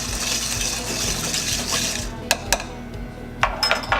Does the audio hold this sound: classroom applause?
no